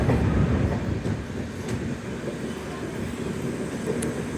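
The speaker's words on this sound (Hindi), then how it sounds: "और सामने से आ रही है पुणे दानापुर सुपौल एक्सप्रेस" The Pune–Danapur–Supaul superfast express rumbles past nearby, a loud continuous roar of rolling rail cars with no break, heard from another train.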